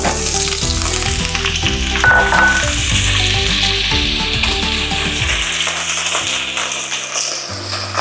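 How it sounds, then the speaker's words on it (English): Steady, loud sizzling of potato frying in an oil-filled pan, continuous throughout with a faint metallic clink partway. "we're going to start pan frying our vegetables."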